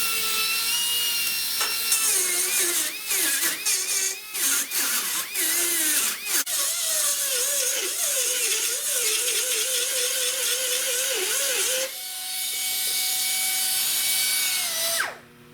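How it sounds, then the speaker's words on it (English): Die grinder taking down welded sheet metal on a rusted car roof, giving a loud, close high-pitched whine that wavers and chatters as it bites the metal, then runs freely near the end before stopping. "I come in here with the die grinder, and the die grinder is good at just"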